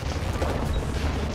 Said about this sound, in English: Here comes a frag grenade!